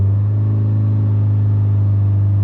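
Mitsubishi Lancer Evo IX engine checked after a misfire, running with a loud, steady, close-up low drone, smooth and unbroken with no clear revs.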